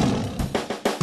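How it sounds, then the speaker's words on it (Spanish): A cartoon Tyrannosaurus rex lets out a loud, rough roar in a children's dinosaur song, rising in several bursts across the second with no talking. "oye mi fuerte rugido"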